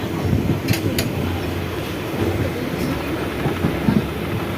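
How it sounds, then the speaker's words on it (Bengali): A commuter train near Ranaghat station, heading toward Sealdah, rolls across points from one track to another, producing a steady rumble with sharp clicks and clacks of wheels over rail joints, fairly loud and continuous without talk. "এক রেল থেকে আরেক রেলে ক্রসিং করছে"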